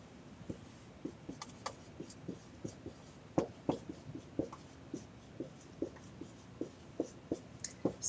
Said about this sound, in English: I'm going to write it up here.